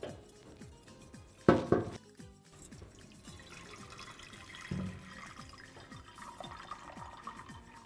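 Water is poured into a cooking pot set over a lit brazier while making haleem, a short splashing burst followed by a second brief pour, with faint clinks of pots amid a quiet kitchen background.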